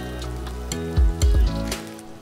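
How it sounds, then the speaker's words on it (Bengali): Chopped onions hit hot mustard oil in a karahi, giving a steady sizzle with a few heavier low bursts of crackle and spatter, loud and close with no voices. "এবার এর মধ্যে আমি পেঁয়াজ কুচিগুলো দিয়ে বেরেস্তা বানিয়ে নেব।"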